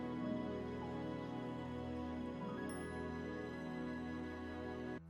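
A sustained final jazz chord held by strings, woodwinds, bassoon, flute and choir rings out steadily and fairly softly, a rich layered tone with a small shift partway through before it cuts off.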